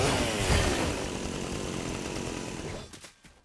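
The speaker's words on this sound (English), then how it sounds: "With the chainsaw, you could just do this." A chainsaw weapon in the Fortnite video game roars loudly and continuously for nearly three seconds, then cuts off with a few fading sputters.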